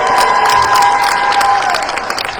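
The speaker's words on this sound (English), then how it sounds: "Let's give him a round of applause." An audience at an awards ceremony gives an honoree a loud round of applause, dense continuous clapping with cheering and whoops, tapering off toward the end.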